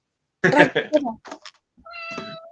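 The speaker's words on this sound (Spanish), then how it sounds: "¿Qué, un gato?" Domestic cat meowing during a classroom history lesson, a single drawn-out tonal meow following a brief burst of speech.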